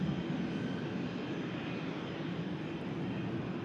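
A Turkish Airlines Airbus A330 jet at Manchester Airport gives a steady, distant engine rumble and roar that holds level throughout, with no voices.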